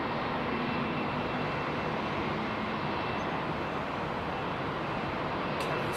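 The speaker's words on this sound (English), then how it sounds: "Sounds like a bit of an island hopper, doesn't it, the old Trilander?" Britten-Norman Trislander aircraft engines heard at London Heathrow, a steady broad droning roar that stays constant throughout without speech.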